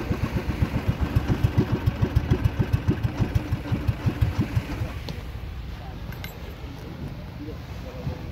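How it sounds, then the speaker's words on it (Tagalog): Fishing boat engine thumping in a steady rapid rhythm as boats head out to sea on a calm day, loud and close for about five seconds before fading into softer background rumble. "Tuloy-tuloy ang paglaot ng mga bangka, eh."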